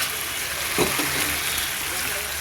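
Food sizzles and hisses steadily in a hot pan while sautéing for khichdi, with brief scraping stirs partway through; no talking.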